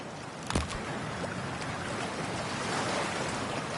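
Water in the Cyberpunk 2077 video game as a character wades in: a steady broadband rush like surf, with a brief splash near the start, loud and continuous without talk.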